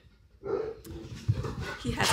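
A Bully XL dog whimpers and whines softly in short bursts, with people talking nearby and some background noise.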